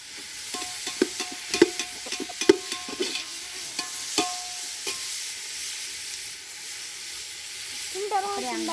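Onions and green chillies frying in a pan for chicken biryani, stirred with a utensil that gives a run of scraping clinks over a steady sizzle; the stirring eases off midway, leaving the sizzle alone, and a brief voice comes in near the end.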